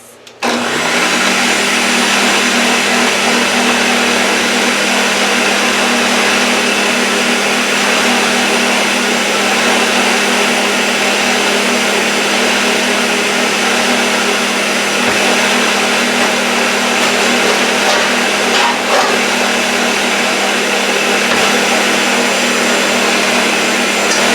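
An electric mixer beats dark chocolate fudge cake batter in a bowl, a loud, steady whirring motor drone that runs unbroken for the whole stretch with no voices over it.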